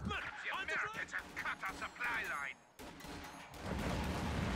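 Light artillery firing in a video game match: a run of booming and crackling shots under excited speech, then a brief lull and a continuing dense rumble of fire.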